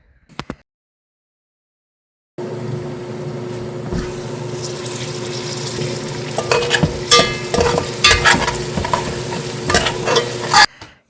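Tomato masala with diluted spice mix, garlic and ginger sizzles in oil in a pan as a spoon scrapes and stirs it, a steady close hiss broken by irregular clanks and scrapes after a brief silent start.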